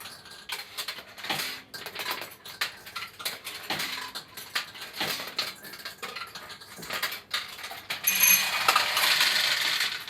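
A vintage 1972 Nishijin Model A Recycler pachinko machine launches balls with repeated sharp metallic clicks and clattering, irregularly spaced, followed near the end by a burst of brighter rattling and chiming.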